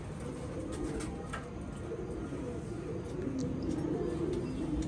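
Pigeons kept by a fancier coo in soft, low repeated calls beneath a steady background hum, fairly close, with no talk over them.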